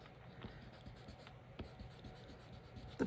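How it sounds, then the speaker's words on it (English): An eraser rubs back and forth over pencil marks on a handmade snowman Christmas card, a soft, close, quiet scratching with short repeated strokes. "I'm going to go ahead and erase"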